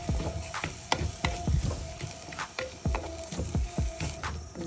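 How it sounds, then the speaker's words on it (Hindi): A spoon stirs mashed turnip with spices in a hot pan, a rhythmic series of close scrapes and soft thuds over a low, constant sizzle. "अब इसके अंदर हम हमारा मैश किया हुआ डालेंगे शलगम। इसको खूब अच्छे से हम मिक्स करेंगे।"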